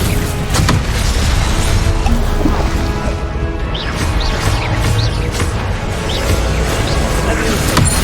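A Confringo fire spell goes off during combat in Hogwarts Legacy, part of a loud, dense stretch of blasts, crashes and magical whooshes layered over game music and effects, with no clear pause.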